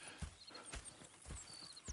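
Horse hooves clip-clop in a steady walking rhythm in Red Dead Redemption 2, soft and fairly close, with a few muffled thuds over a low outdoor background.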